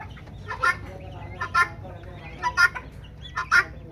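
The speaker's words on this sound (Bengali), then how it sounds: "দেখুন এই যে আমার ফার্মে মোরগটা" Chickens and a rooster on a poultry farm raising local and Fayoumi hens, giving four short bursts of clucking and calls spaced about a second apart over a low steady background hum.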